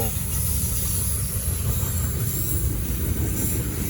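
A Norfolk Southern intermodal freight train rolls past on the Charlotte District in the late afternoon, a steady close rumble of railcars with hissing and faint wheel squeal running throughout.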